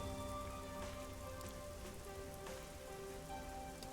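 Rain pours in the Master Detective Archives video game over a neon-lit city district, a dense steady patter of drops with faint tonal background music mixed in and no voices.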